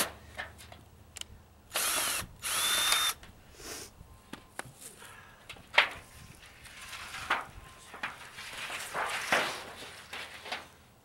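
A power drill whirs in two short bursts drilling holes while building a raised garden bed, followed by scattered knocks, clicks and handling noises.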